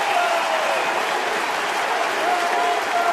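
A ballpark crowd roars and applauds steadily for Justin Verlander at a Pirates at Tigers game in Detroit, a dense, loud wall of cheering and clapping with no break.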